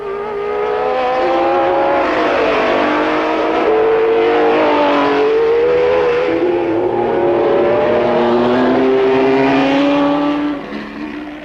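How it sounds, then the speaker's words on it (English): 1967 Formula 1 race cars at the German Grand Prix, engines loud and near as they race nose to tail, a continuous high revving wail with rising and falling pitch as they accelerate and shift, no talk. "The two Jacks, Brabham and Stewart, are still nose to tail"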